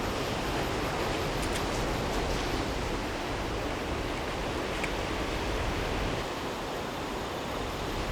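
Ocean waves roll onto a sandy beach in Japan, a dense, continuous roar of surf heard close and loud throughout, with no talking.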